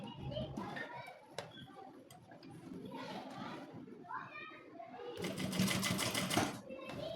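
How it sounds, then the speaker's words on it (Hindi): A sewing machine runs a short straight seam with a fast mechanical rattle. A louder burst of stitching comes near the end, and children can be heard playing and talking in the background. "यहाँ से हम सीधी सिलाई लगाएंगे थोड़ी सी"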